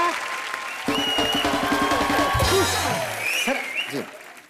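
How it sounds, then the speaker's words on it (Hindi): Audience applause and cheering for the full cast at a live comedy show taping, a dense wash of clapping that starts suddenly and holds steady, with music and voices mixed in before fading near the end. "एक बार पूरी कास्ट के लिए जोरदार तालियां।"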